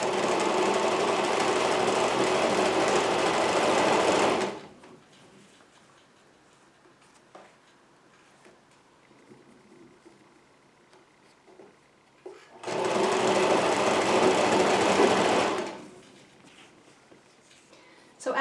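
A sewing machine stitches a folded fabric mask tie in two loud, steady bursts of rapid needle chatter lasting a few seconds each, separated by a quieter stretch of faint handling sounds.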